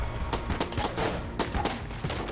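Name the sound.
revolver gunfire in the video game Enter the Gungeon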